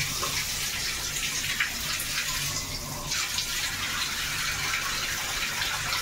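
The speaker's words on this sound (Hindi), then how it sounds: "ଆମେ ତା ଦେହରେ ଏବେ ଟିକେ ପାଣି ଦେଇଦେବା" Water is poured into a pan of cabbage curry (bandha kobi tarkari) as it cooks, making a steady, close gushing pour that runs evenly for about six seconds with no talking.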